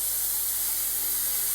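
A Haas minimum quantity lubrication atomizer nozzle sprays a fine oil mist at a machine tool, producing a steady, loud, continuous hiss with no pauses.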